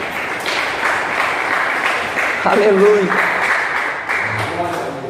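A church congregation at a Brazilian Assembly of God service applauding for Jesus, a broad steady wash of clapping from many hands, with voices calling out over it.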